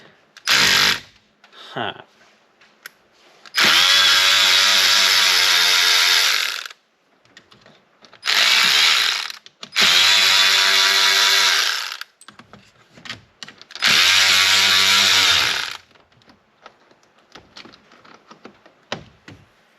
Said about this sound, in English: We're using a cordless ratchet.